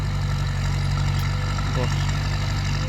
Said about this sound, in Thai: พบกันอีกแล้วครับ รถไถฟอร์ด